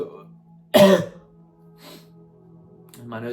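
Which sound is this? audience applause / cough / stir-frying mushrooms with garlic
cough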